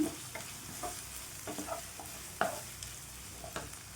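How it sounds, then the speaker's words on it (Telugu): Cut green chillies fry in a pan with a soft, crackling sizzle, punctuated by several scraping stirs and a sharper clack midway, fairly quiet and without voices. "తిన్నగా కట్ చేసుకొని 3 పచ్చిమిర్చి వేసుకుంటాను. ఇవి మంచిగా ఫ్రై అవ్వాలండి."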